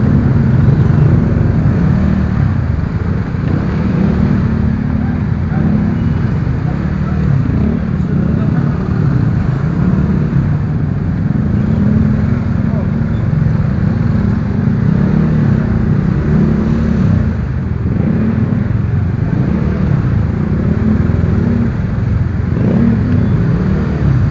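Busy road traffic during a rescue evacuation, with a steady, loud rumble of cars and motorcycles passing and revving close by throughout, engines droning without a break.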